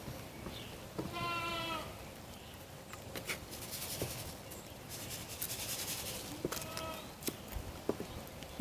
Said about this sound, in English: you can hear the goats in the background